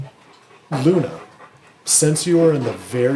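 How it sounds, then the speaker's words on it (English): A big, loud dog pants in the background, its breathing coming in bursts under someone talking close to the microphone. "that's my dog in the background"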